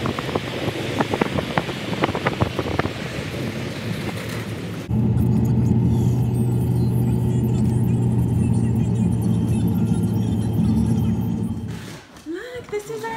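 A car travels along a road, its steady engine rumble and tyre roar loud and close from the cabin, with wind noise over the microphone; a shorter stretch of busier driving with faint voices comes first, and the sound fades near the end.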